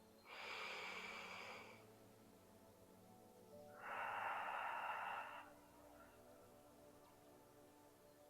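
Slow, deliberate breaths during an evening home back-exercise routine: two long airy exhalations or inhalations a few seconds apart, close and fairly faint, with quiet gaps between.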